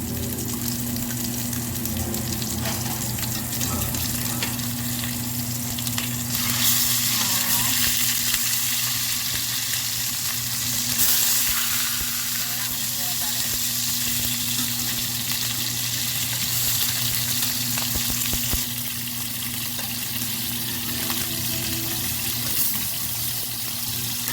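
Salmon fillets sear in a hot pan, giving a continuous loud, crackling sizzle that runs for the full stretch, with brief stirring or shifting noises and slight swells in intensity, and no voices over it.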